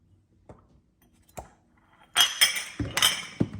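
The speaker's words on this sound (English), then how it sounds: "now we are going to stir together 3/4 of a cup of brown sugar" A spoon clinks against a bowl while brown sugar is stirred, a few light taps early, then a busier run of scraping, clinking strokes toward the end, close and fairly clear with no talking.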